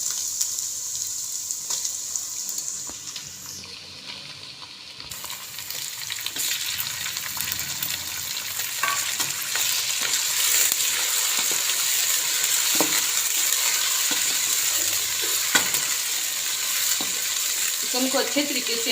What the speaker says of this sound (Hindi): चिकन को अच्छे तरीके से हमने इस तरीके से भूनना है।